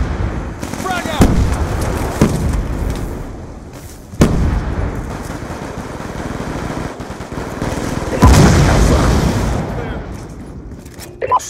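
A frag grenade going off in Call of Duty: Black Ops 2 multiplayer, a loud blast within dense gunfire and explosions in a continuous roar, with players talking over the battle.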